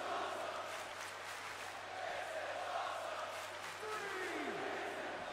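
A wrestling crowd at an indie show cheers after a plunger spot, a broad sustained roar of voices with a steady hum beneath.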